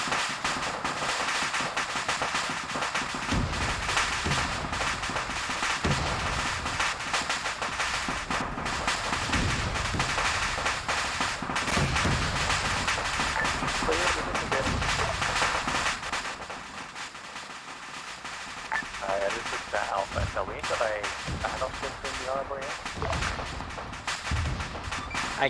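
Dense, continuous explosions and gunfire rage through a World War II scenario in the video game Arma 3, loud blasts and rapid shots overlapping without pause and dipping briefly before surging again.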